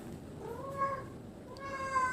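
A cat meows twice, two drawn-out tonal calls a moment apart, close by against a faint background hum.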